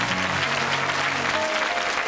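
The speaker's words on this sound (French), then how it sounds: "On l'applaudit très fort cette jolie petite fille." Television studio audience applauding a young girl at a children's singing contest, dense continuous clapping throughout a short stretch with music faintly underneath.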